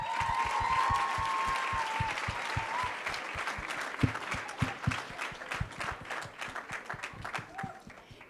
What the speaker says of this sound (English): Please help me to welcome them with the deepest, intense round of applause as they approach.